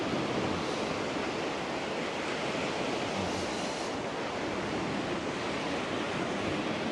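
Sea waves along Blackpool promenade, a loud, unbroken roar of surf with wind buffeting the microphone throughout.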